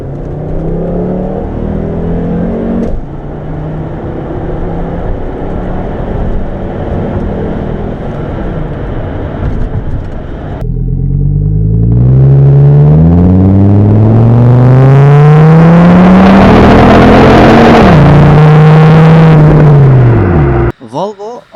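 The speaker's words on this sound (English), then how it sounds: "you will love the unique soundtrack produced by this 5-cylinder" A 1996 Volvo 850 Turbo's five-cylinder turbo engine idles with a low burble, then revs hard and climbs steadily in pitch, loud and close, before cutting off abruptly.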